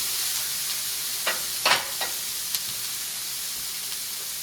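Peppers and onions sauté in a pan for cheesesteak sliders over low-to-medium heat, giving a steady close sizzle throughout with a few brief scraping clicks from a spatula.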